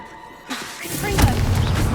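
A Confringo fire spell blasts in Hogwarts Legacy, a sudden loud burst that swells into a roaring, crackling whoosh lasting about a second and a half, with game sounds layered underneath.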